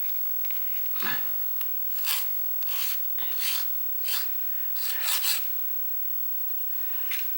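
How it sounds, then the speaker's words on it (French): A metal file rasps across a small craft piece to flatten it, short gritty strokes repeating in an uneven rhythm of about eight passes, close and fairly quiet with no talking. "On va limer un tout petit peu parce qu'il va falloir que ça reste bien à plat."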